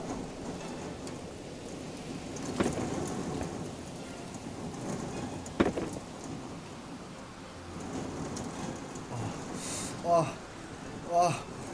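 Heavy rain pours steadily with loud thunder cracks and rumbles breaking through, while voices talk underneath and a few brief louder bursts rise near the end.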